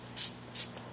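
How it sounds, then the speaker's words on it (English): Two quick hissing pumps of a fine face mist spray, close and crisp, about a third of a second apart, over a faint low hum. "I'll just like spray my face."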